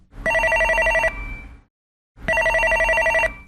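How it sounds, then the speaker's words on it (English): A telephone rings in two loud, trilling bursts separated by a short pause, close by and with no voices over it. "She was interrupted by the phone."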